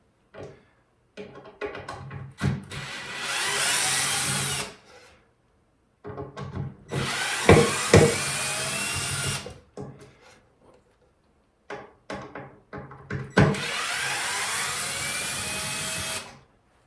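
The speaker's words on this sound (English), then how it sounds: "So first we'll remove one of the old hinges here" Old hinge screws are backed out of a wooden furniture door with a power driver, three separate whirring bursts of a few seconds each, with small clicks and taps between them.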